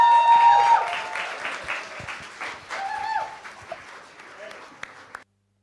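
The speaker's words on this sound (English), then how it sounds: "So can we give Foppe a big round of applause" Audience applause at a talk on Black activism in the UK, clapping loudly at first and then thinning out over several seconds, with tonal whistles and some voices mixed in.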